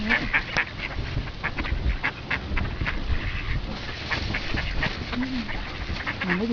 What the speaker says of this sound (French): Il y a toutes les sortes de canards.